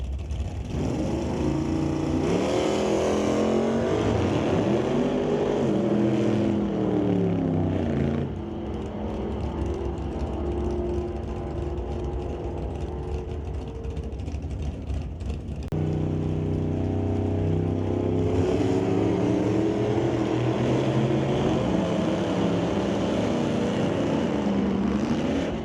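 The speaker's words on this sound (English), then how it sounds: "a wheels high launch out of the Little Mercury" Old-time drag race car, the Little Mercury, launching wheels-high at Mission Raceway Park, a loud sustained engine roar with rising revs and gear changes, a second burst of acceleration midway, heard close and dominating throughout.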